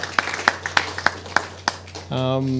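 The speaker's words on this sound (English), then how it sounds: "Round of applause." A handful of scattered handclaps from a panel discussion audience, sharp and separate rather than a full crowd, followed by a sustained voice starting up.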